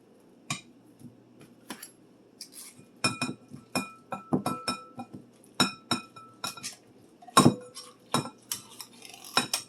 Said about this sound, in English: This is the cranberry sauce that I'm going to be using, and I'm going to dump the entire can in, including its juices.